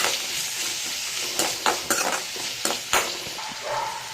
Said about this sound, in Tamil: ஒரு தக்காளி நல்லா பொடியாக கட் பண்ணி வச்சுருக்கேன், அதையும் இதில் போட்டு நல்லா வதக்கி விடுங்க